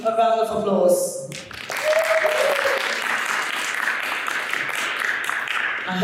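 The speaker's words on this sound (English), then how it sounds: "And can you give the KindEx team a round of applause?" Audience applause for the KindEx team at a kindness event, broad steady clapping filling the room after a voice and a brief pause, sustained at an even level to the end.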